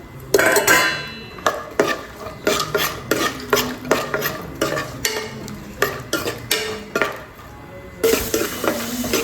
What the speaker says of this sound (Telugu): ఈ నెయ్యిలో డ్రై ఫ్రూట్స్ వేసి వేపుకోవాలి.